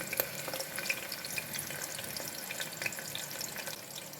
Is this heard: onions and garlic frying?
yes